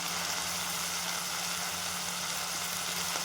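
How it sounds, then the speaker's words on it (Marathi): Chopped tomatoes and coriander sautéing in hot oil, a continuous bright sizzle over a faint low hum, steady throughout with no voices. "कोथिंबीर आणि टमाटर, हे पण छान परतून घेऊ. तेलामध्ये छान परतून घ्यायचं"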